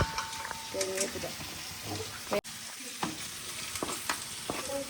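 Four or five curry leaves drop into hot oil in a home kitchen and sizzle, crackling and spitting steadily with stirring noises, fairly quiet under occasional talk.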